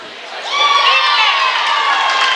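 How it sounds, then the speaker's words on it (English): Teammates cheering at an indoor conference track and field championship: loud, close shouting and whooping from a crowd that swells after a brief lead-in and stays strong to the end. "We're constantly hearing cheers from teammates"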